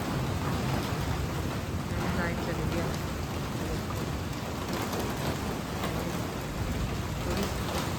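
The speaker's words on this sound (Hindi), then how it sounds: "वो देखो ओले पड़ गए। वही तरफ बारिश।" During a storm, rain and hail pour down in a thick, steady patter with low rumbling underneath, while a voice speaks briefly over it.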